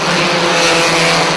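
Race cars on an oval track roar past in a continuous loud engine drone, a dense mix of several cars at once, heard briefly without commentary.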